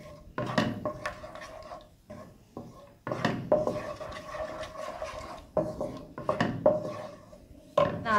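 A spoon scrapes and clinks around a pan as melted sugar and a spoonful of oil are stirred together for sesame chikki, with repeated uneven scraping strokes up close and no speech.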